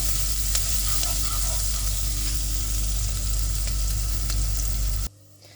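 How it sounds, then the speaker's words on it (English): Garlic sizzles steadily in a hot pan, a loud, dense crackle that holds for about five seconds before cutting off abruptly. "the garlic, you want it cooking for about 20 seconds, it'll start to burn"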